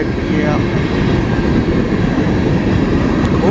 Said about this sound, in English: First train of winter